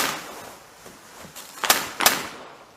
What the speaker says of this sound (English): It's the noise of the bubble wrap.